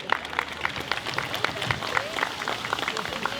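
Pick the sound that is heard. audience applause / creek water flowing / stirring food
audience applause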